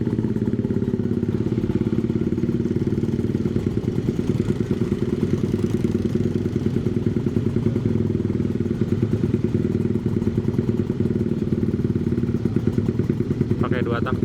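An old Suzuki Satria two-stroke motorcycle idles at a traffic light on a city street at night in Tasik, giving a close, steady, rapid putter that runs continuously throughout.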